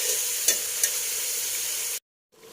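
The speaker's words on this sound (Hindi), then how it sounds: "गोश्त को मैं इतना भून लेती हूँ कि इसका अपना पानी आके खुश्क हो जाए" Steady, close sizzling of mutton frying in a pan, with a couple of brief stirring scrapes, then it cuts off abruptly to near silence.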